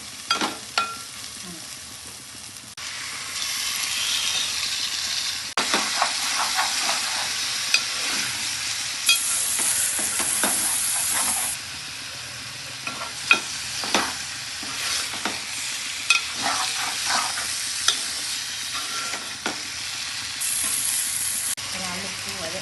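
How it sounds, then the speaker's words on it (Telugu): Chicken frying with turmeric in a hot pan hisses and sizzles steadily, broken by repeated scraping stirs and clinks of a spoon against the pan, close and loud, with no talking. "పసుపు కొంచెం వేగినాక మనం చికెన్ వేసేసుకున్నాం."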